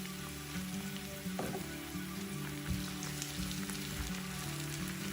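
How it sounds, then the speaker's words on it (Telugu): Medium-size chopped tomato with ginger garlic paste sizzles steadily in a hot pan, a close, continuous crackling fry with occasional pops and faint stirring. "అల్లం వెల్లుల్లి పేస్ట్ కొద్దిగా వేగాక దీనిలో 1 మీడియం సైజ్ టమాటాని ముక్కలుగా కోసి వేసుకోవాలి."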